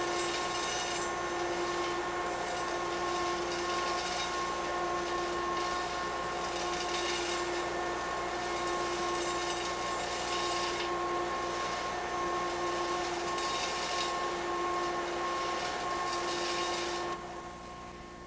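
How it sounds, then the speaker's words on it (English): Virginia bituminous coal dropping into a pulverizer feed pipe, heard as a steady loud rushing, rattling hiss under a constant mechanical hum and whine, continuous for about seventeen seconds before easing off. "The sound you hear is the coal dropping into the pipe."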